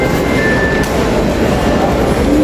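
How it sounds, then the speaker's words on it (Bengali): A Dhaka MRT metro train pulls into a station with a steady, loud rumble of rail noise and a faint high whine above it. No one speaks. "ট্রেন আসবে এখানে, দেখবে"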